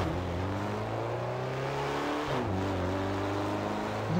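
A jeep engine in Garry's Mod hums steadily while driving, its pitch dipping and shifting as the vehicle cruises, close and clear with no talk.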